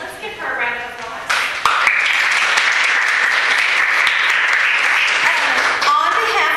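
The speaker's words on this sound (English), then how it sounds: "let's give her a round of applause" An audience bursts into applause at a talk on dementia basics, dense clapping building quickly and holding steady for several seconds, fairly close and loud.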